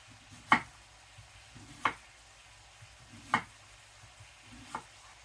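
A knife slices through a red onion on a cutting board, giving four separate, evenly spaced cuts, each a short crisp thunk. The kitchen is otherwise quiet and no one speaks.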